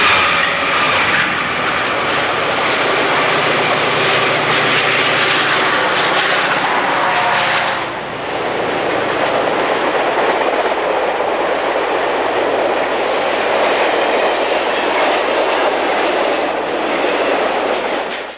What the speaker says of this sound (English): a westbound climbing the hill meets Amtrak's eastbound Southwest Chief